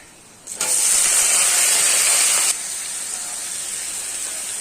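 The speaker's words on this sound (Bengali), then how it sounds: "রসুন দিলাম, ও তেলেতে ছিটকে এলো।" Garlic dropped into hot oil bursts into a loud, steady hissing spatter for about two seconds, then eases to a softer continuous sizzle, close up with no talk.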